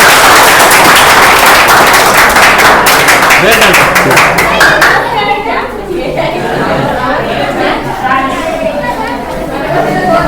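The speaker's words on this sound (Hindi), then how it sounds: "ताली बजाएं इन लोगों के लिए सर" A classroom audience claps for students: dense, loud applause fills the first half, then fades into chatter and scattered voices.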